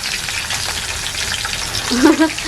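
Fish dropped into hot oil for a mango fish curry, a loud, dense frying hiss with spitting and crackling throughout and a brief swell of louder splatter near the end.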